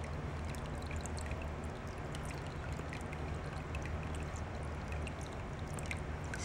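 Steady soft trickle of water from the small waterfall spout of a cat drinking fountain, a continuous gentle babble with a low pump hum underneath, fairly quiet and close, no voices.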